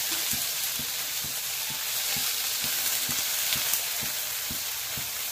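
Pieces of fish shallow frying in oil in a pan for a home-style kodai kallur gravy, giving a steady close sizzle with regular soft spatula taps about every half second throughout.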